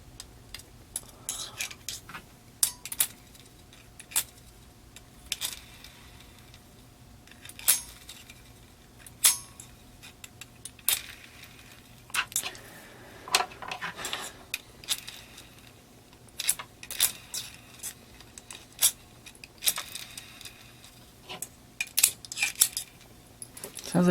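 KWA airsoft gearbox test-cycling after lubing and shimming with a slight rubbing, heard as quiet clicking and whirring bursts in irregular spurts with mechanical clinks and a faint hum between them.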